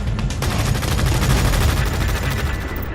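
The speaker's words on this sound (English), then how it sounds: "We are taking fire and have no cover." Continuous loud gunfire from the war video game EndWar, a dense fusillade of overlapping rapid shots with no pauses and no voices.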